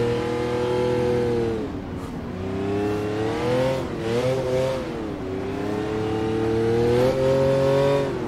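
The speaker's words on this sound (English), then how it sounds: "it's just the engine doing a few revs" A McLaren F1 engine in the Automobilista racing game, driven on snow at the Nurburgring, revs continuously, its tone swelling and dipping in smooth waves. It is loud and close, with no voices.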